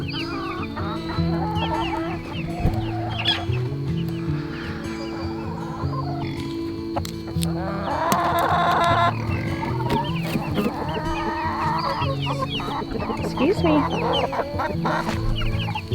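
Chickens cluck and squawk continuously nearby on a homestead, a busy flock with scattered sharp calls, while a person speaks briefly over the farmyard noise.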